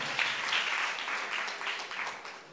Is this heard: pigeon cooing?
no